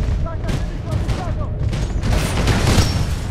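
Gunfire and booms from the Titanfall 2 video game crackle in rough bursts through a thick, noisy mix, with a voice faintly present underneath.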